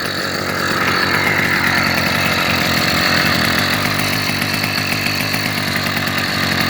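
Small 80cc two-stroke motorized bicycle engine running close by, a loud, steady buzzing rattle with a fast, even pulse that holds throughout.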